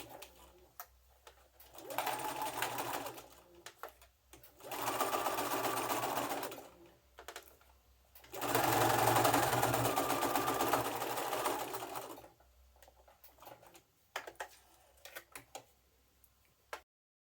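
Domestic sewing machine stitching a slit sleeve placket with a tear-proof facing, running in three sustained bursts with pauses between, then light clicks and handling of the fabric near the end.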